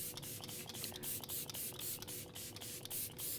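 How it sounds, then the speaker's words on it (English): Grand Finale 3-in-1 hydrating makeup setting mist by COL-LAB sprayed in a quick series of about a dozen short, airy pumps with a fairly even rhythm, close and clear with no talking. "And finally, setting spray. I'm going to be using the Grand Finale 3-in-1 Hydrating Makeup Setting Mist by"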